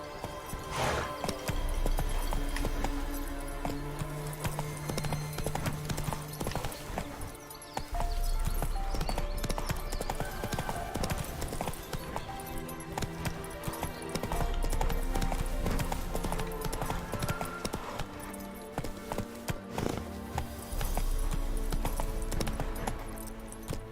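The horse Roach from The Witcher 3 gallops in a steady, loud clip-clop rhythm of hoofbeats, mixed with game sounds and music, with occasional short bursts of speech.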